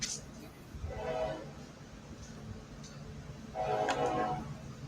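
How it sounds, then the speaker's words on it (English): A train passes outside during a chat stream, its horn sounding in two moderately loud blasts, one near the start and a longer one toward the end, over a steady low rumble, with talk nearby. "Is that a train? Another train?"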